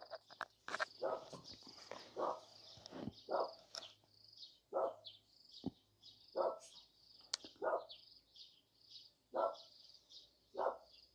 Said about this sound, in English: All right, Eva, can you stop barking at things for me, please?